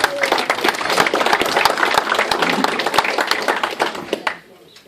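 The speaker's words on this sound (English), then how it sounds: "Round of applause for Joyce" A comedy audience breaks into a round of applause for Joyce, dense steady clapping from a crowd filling the room for several seconds before it fades out.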